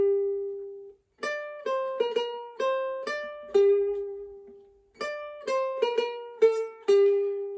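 A plucked ukulele plays a theme melody line in a clear rhythm, two similar phrases separated by a brief pause, close and clean with no talking.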